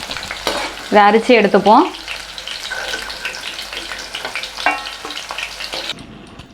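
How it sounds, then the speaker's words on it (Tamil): Capsicum sautés in hot oil with a crackling, bubbling sizzle and occasional stirring clatter, close by, while someone speaks briefly near the start and the sizzle carries on alone until it cuts off at the end. "கேப்சிகம் சேர்த்துப்போம். நல்லா வதங்கட்டும்."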